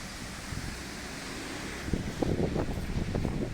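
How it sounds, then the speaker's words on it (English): Wind buffets a camera microphone outdoors, a rumbling, gusty low roar that swells and turns louder and more turbulent in the second half, with no voices. "It's also very windy."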